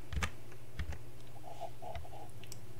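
A few sharp computer keyboard key clicks, including a Control G shortcut, spaced apart, sound close up in a quiet room.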